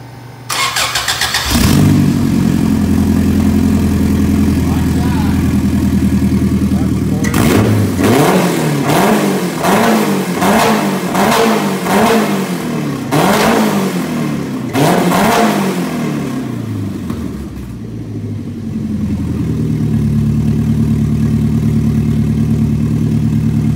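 A 2.4 liter Ecotec car engine with variable valve timing starts up, settles into a steady idle, then revs hard in repeated sharp bursts before dropping back to a smooth, close idle, with no talking.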